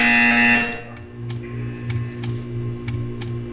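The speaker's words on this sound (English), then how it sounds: "You will hear a buzzer." A loud, harsh buzzer in the video game Portal 2 blares for about half a second, then fades into a quieter hum broken by a few soft ticking clicks.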